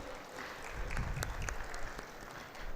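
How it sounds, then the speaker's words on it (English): A brief burst of applause from a conference audience at Nonwoven Tech Asia 2024 greeting India's Minister of Textile, heard as faint, distant clapping over low room rumble, with a few sharper hand claps standing out. "Let's have a round of applause."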